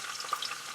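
Steady hissing sizzle of food frying in a hot pan, crackling and popping lightly throughout at moderate volume.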